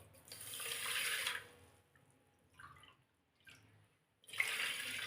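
Water pours from a cup into a pot of sugar for gulab jamun syrup in a home kitchen, in two or three soft splashing gushes separated by quiet gaps, close and fairly faint.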